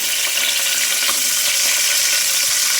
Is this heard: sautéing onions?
yes